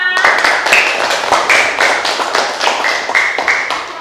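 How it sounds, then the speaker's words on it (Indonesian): A class of children clap their hands together in a classroom, a dense, lively burst of many small slaps lasting several seconds, close and fairly loud, with a few sharper taps standing out. "Tepuk tangan buat kita semua."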